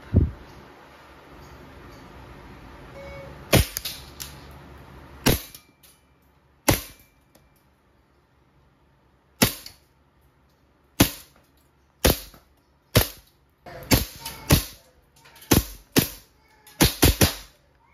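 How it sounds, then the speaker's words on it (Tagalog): A silver WE M92 full-metal gas blowback airsoft pistol fires single shots, about a dozen sharp cracks spaced irregularly, some in quick pairs, loud and close with a faint hiss of gas between them and no talking. "Firing M92 silver, full metal, gas blowback airsoft."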